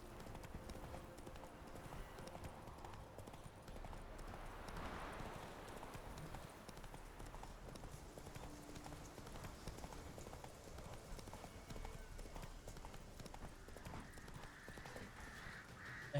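Steady clip-clop of horse hooves in The Witcher 3 trots along at an even pace, quiet and continuous throughout.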